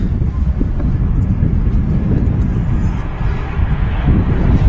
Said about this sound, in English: Ryanair 737-800 just gracing the tarmac there